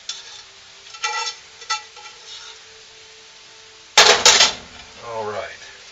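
Fried noodles with chicken, egg and carrots are stirred in a pan, with a few soft scrapes and then a sharp burst of utensil clatter against the pan over a faint sizzle, close by.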